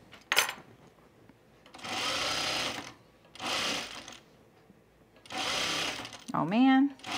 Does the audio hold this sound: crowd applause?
no